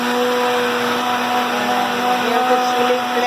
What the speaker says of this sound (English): And here's the chili blending.